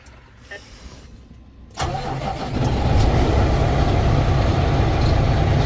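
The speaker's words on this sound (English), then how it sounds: "see if it'll fire off." A 2016 International Prostar truck, fresh from a starter swap, cranks briefly and then fires, settling into a loud, steady diesel idle that runs to the end.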